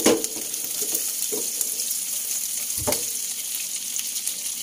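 Shallots and garlic fry in a pan for a Sundanese nasi liwet dish, giving a steady close sizzle broken by a few sharp knocks and scrapes of a utensil stirring.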